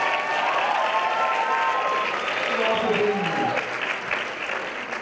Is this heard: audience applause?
yes